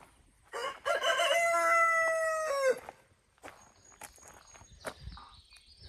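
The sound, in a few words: rooster crowing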